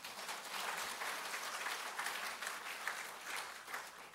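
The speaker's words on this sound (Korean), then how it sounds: "이 정도 되면 우리 박수 한번 쳐야 안 됩니까?" Congregation applause in a church during a talk on the church's history, a continuous crowd clapping sustained from start to finish at moderate distance, fairly soft and even.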